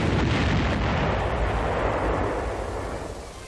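Rockets fire from a tank-mounted T-40 demolition rocket launcher in 1944, producing a heavy roaring blast of dense rumbling noise that holds loud for a few seconds and then slowly fades.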